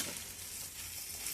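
Two eggs frying in a pan, a steady close sizzle and spitting crackle that holds evenly through the short moment with no voices.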